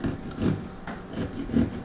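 A drill bit grinds and rasps through soft fibrous pumpkin flesh in uneven pulses, close by, with a low rough churning texture.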